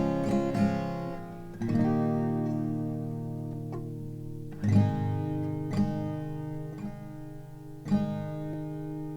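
An acoustic guitar plays the closing line of a song, with a few quick strums at the start followed by clear, ringing down strums spaced a second or two apart that let the chords sustain, close and alone.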